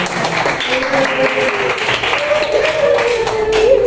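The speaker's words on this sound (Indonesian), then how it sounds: "Tepuk tangan untuk kita semua." Group clapping from a classroom of students, steady and moderately loud throughout, with tonal voices or shouts threading over the applause.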